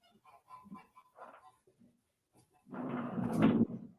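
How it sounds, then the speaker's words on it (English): Geese honk near a shop: a few faint, scattered calls give way to a louder, sustained burst of honking near the end. "Dang geese."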